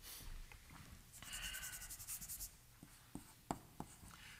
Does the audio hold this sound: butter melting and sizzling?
no